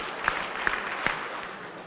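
Audience at a 2018 YJA convention keynote responding to a call to clap; three sharp, distinct group claps ring out at even intervals over a low room hum, with no talk.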